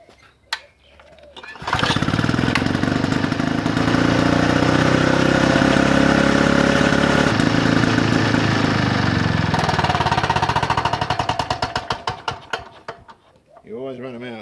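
Vintage Victa lawnmower engine starts with a pull, runs loud and close at a steady roar, then sputters and winds down with uneven coughing pops as it runs out of fuel.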